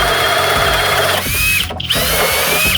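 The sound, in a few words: FLEX cordless drill boring a 2 9/16 inch hole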